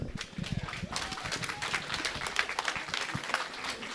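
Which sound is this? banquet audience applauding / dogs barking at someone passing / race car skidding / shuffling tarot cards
banquet audience applauding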